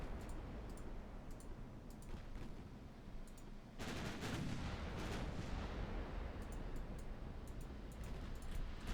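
Naval gunfire volleys in the warship game Ultimate Admiral Dreadnoughts, a sustained rumbling roar of distant cannon blasts under steady battle noise, swelling heavier partway through.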